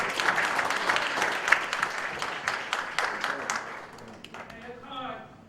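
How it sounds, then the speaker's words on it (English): An audience gives a round of applause, loud dense clapping with cheers that fades out, as a voice begins speaking near the end. "Give your neighbor a round of applause"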